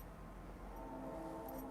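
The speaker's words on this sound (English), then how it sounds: "the train is loud" A train rumbles loudly close by, a steady low roar with tonal squeal-like lines building toward the end, sustained through the short stretch with no talking.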